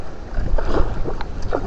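Strong wind at sea rushes over a small fishing boat during a storm, with a steady, close roar of wind noise and faint water sounds and no speech.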